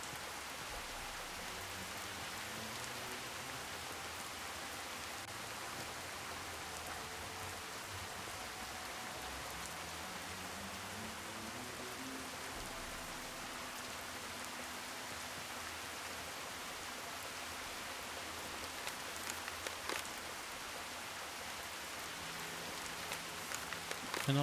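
Steady, hissing rain in the video game Gothic 2 falls throughout with soft low tones underneath, constant and even, with a few louder drips near the end.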